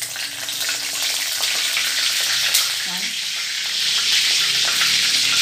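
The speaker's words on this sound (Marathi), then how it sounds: "तेल आपला गरम झालेला आहे, 1/2 चम्मच राई घालते।" Mustard seeds frying in hot oil in a home kitchen pan, a steady close crackling sizzle with faint pops, no talking.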